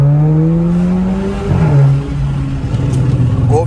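Remapped VW Golf 1.4 TSI revving hard, its engine pitch climbing and dropping with a few sharp exhaust pops and crackles on the overrun, loud and close.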